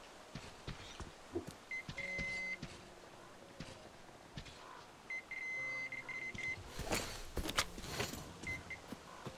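Electronic beeping in the video game Metro Exodus, short repeated tones that come in two bursts amid soft game ambience and footsteps, with a louder rustling clatter near the end.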